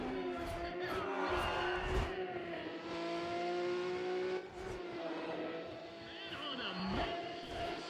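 Race car in Need for Speed ProStreet on PS3, launching hard and accelerating at Infineon, engine note climbing steadily through gear changes, loud and continuous for several seconds.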